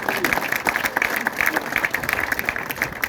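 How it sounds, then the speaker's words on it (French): Crowd applause at a rugby club's season squad presentation, a steady, dense clapping close by for the whole stretch with a few voices mixed in. "On peut l'applaudir quand même"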